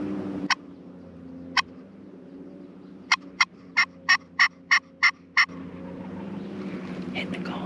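Wild turkeys on Maryland state land in spring: a series of sharp, clicking bursts, first spaced apart, then a quick even run of about eight in a row, over a quiet outdoor background.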